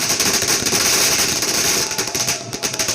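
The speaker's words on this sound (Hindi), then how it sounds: "ये बम पटाखे" Firecrackers crackle in a dense, continuous stream of rapid pops at an election victory celebration in Bihar, loud and steady throughout with no talk.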